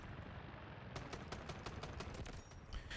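Helicopter minigun fire in the video game Delta Force comes as a dense, continuous roar of rapid shots, with sharp repeated bursts standing out in the middle, loud and steady without pause.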